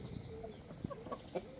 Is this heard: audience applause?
no